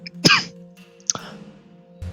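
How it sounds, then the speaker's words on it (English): Two brief throaty coughs, close and fairly loud, spaced about a second apart in a quiet room. "coughs a little"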